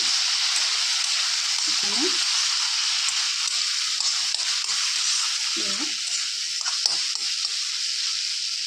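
Ground cumin and coriander fry in oil in a pan for drumstick curry, a steady close sizzle running throughout with a few soft scrapes of stirring.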